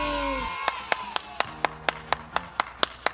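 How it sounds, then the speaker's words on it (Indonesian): Children clap for Jesus during an online Sunday school session: about ten sharp, evenly spaced hand claps in a steady rhythm after a brief tone, fairly close and moderately loud. "tepuk tangan dulu dong buat Tuhan Yesus"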